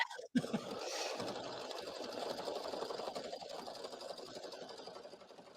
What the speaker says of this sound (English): it is going to stitch the final outline